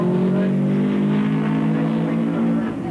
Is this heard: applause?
no